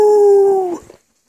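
A dog lets out a single loud, close howl that holds steady, then wavers and trails off into silence within about a second.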